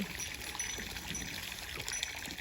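Water pours and trickles steadily into an elephant's bathtub, a continuous splashing flow with faint high ringing tones and brief voices in the background.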